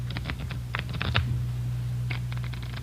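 A deck of playing cards is riffled and shuffled in several quick bursts of crisp flutters, with a pause in the middle, set over a steady low hum in a quiet room from an old radio crime drama.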